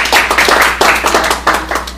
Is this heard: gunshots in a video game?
no